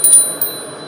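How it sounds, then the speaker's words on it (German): A small bell on a model steam locomotive gives two quick, light metallic tings close by, bright and thin, with no talk. "Die hat hier sogar eine Glocke, habe ich gerade gesehen."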